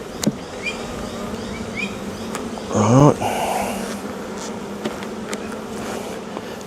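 Honeybees buzz around an open beehive during a brood inspection, a steady hum with a louder close pass near the middle, while someone says a couple of words.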